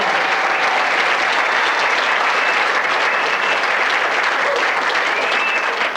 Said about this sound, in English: Let's have a big round of applause, please, for Jim and Jerry and Stark's Bakery.